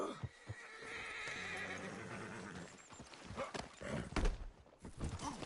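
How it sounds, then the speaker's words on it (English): A horse in Red Dead Redemption 2 whinnies and acts up, its neighs rising over clopping hooves and shuffling movement, close and fairly loud, with a voice briefly heard. "Damn horse acting up on me."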